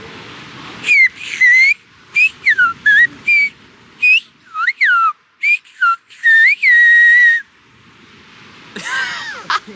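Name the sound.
Silbo Gomero whistled language message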